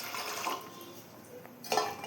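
Water poured into a cooking pot for habisa dalma, a short close splash and trickle with a second brief gush near the end, no talk over it.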